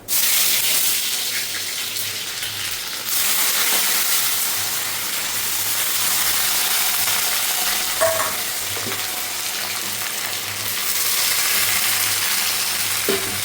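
Boiled jackfruit hits very hot oil in a pan, setting off a loud, steady, broadband sizzle that carries on without a break, with occasional small pops and spatters.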